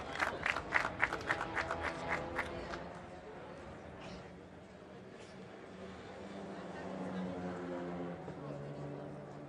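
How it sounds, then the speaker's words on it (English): A crowd applauds podium winners of the Saxo Rookie Cup at a national motorcycle championship race, with bursts of clapping and cheering at the start that fade into a murmur of crowd and talk. "Let's get one more round of applause for our podium winners for the Saxo Rookie Cup."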